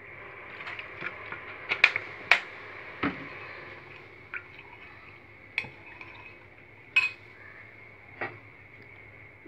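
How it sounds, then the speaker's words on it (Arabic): A quarter cup of vinegar poured into a pan while koshari is being cooked gives a soft steady liquid trickle with scattered clinks and drips, close by and fairly quiet, with no talking. "هننزل عليهم بربع كوبايه خل،"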